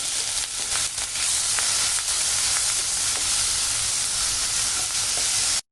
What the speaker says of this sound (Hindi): अब मैं यहाँ पे डालूंगी टमाटो।